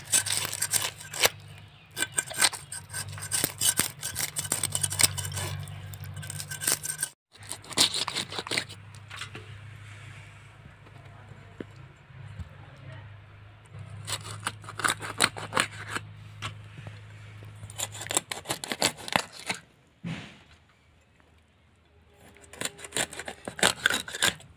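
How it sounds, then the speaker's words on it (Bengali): A rohu fish being cut up for curry: crisp, close snipping and rasping sounds in long dense bursts, broken by short pauses, with no talk. "প্রথমেই মাছটাকে এবার আমি সুন্দরভাবে কেটে নিচ্ছি"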